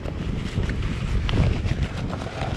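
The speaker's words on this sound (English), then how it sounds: "Bit of a wind from behind us" Wind buffeting the microphone at a coastal rock fishing spot on a calm-swell morning, a steady low rumble with gusty swells and no voices.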